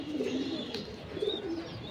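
Pigeons in a loft giving soft, low rolling coos, several overlapping calls repeating at moderate distance over a quiet background, with a faint high chirp here and there.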